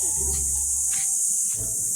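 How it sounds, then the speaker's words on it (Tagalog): Kuliglig insects shrill steadily and loudly at a farm resort, a constant high buzzing drone that carries on throughout while low voices murmur faintly beneath it. "Kuliglig."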